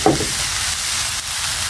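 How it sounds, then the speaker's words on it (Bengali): Vegetables sizzle in a hot pan with onion and chili, a steady broad frying hiss with a brief stir-like burst at the start. No voice is heard over it. "আমি এখন পেঁয়াজ মরিচের সাথে ভালো করে ভেজে নিব সবজিগুলো।"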